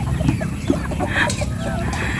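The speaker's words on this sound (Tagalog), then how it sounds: "ayan na lahat ang aming alagang manok" Several chickens clucking close by, a busy overlapping flock with short repeated calls over a steady farmyard background.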